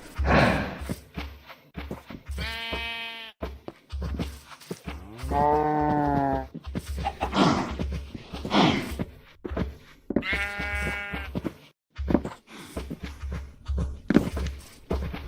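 Cows and sheep in a Minecraft ATM10 modpack skyblock world, several distinct moos and bleats rising one after another between thumping footsteps, fairly close.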